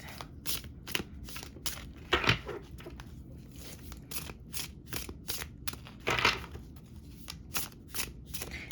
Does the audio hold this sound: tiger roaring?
no